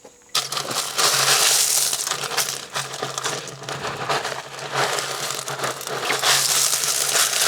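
Rocks being handled and rummaged inside a large rock tumbler barrel, a close, continuous grinding and clattering crunch of stones knocking together for several seconds, with no voices.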